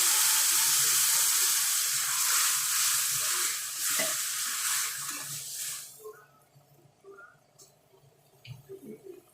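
A mustard and yogurt paste for Bengali doi shorshe ilish hits a hot pan with a loud, hissing sizzle that fades out after about six seconds, followed by quiet clinks and small kitchen noises.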